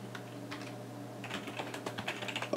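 Keys clatter on a computer keyboard while roleplay text is written: sparse taps at first, then a denser, irregular burst of fast keystrokes, close up over a low steady hum, with no talking.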